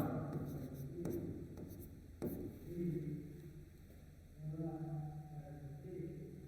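During a geography class, a pen scratches notes on paper in short bursts of strokes close to the recorder. A faint steady hum runs underneath, and a voice is heard briefly.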